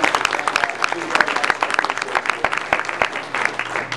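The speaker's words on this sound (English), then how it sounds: "let's give Mr. Brian Urbanski a big round of applause" A live training seminar audience claps for a speaker, a dense patter of many hands sounding close and steady for several seconds, with speech mixed in over the clapping.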